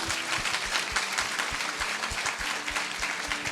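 Loud, sustained applause from a church congregation at an evening session, dense clapping throughout with rhythmic beats underneath and no talking.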